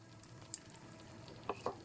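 Spiced chicken masala sautéing in a pan gives a faint, steady sizzle, with a few sharp clinks from a spoon on the pan near the end.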